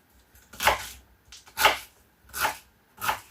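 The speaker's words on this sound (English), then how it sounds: "Just chop it up nice and finely." A knife chops fresh celery on a cutting board in four distinct, evenly spaced strokes, each a crisp close crunch with quiet gaps between.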